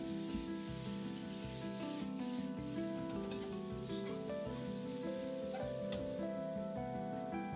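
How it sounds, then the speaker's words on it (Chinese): Garlic chive flowers stir-fried with fermented black beans give a soft, continuous sizzle with scraping, rubbing stirs in the pan, fairly quiet beneath steady background music. "这时候不用炒太久，均匀的拌炒一下"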